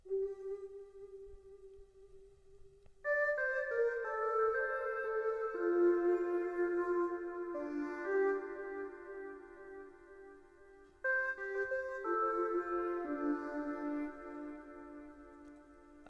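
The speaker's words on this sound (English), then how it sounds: "I added flutes to add accent to the sample, and the flutes are from Nexus as well as Expand" Flute sample from the Nexus and Expand plugins in a trap beat: a sustained melodic line that starts thin and swells into layered harmonies after a few seconds, loud and continuous, with no talk over it.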